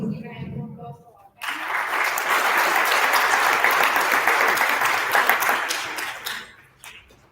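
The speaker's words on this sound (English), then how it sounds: "Please give a hand of applause for our" Conference audience bursts into sustained applause after brief speech, a dense steady wash of clapping that holds strong for several seconds before tapering off.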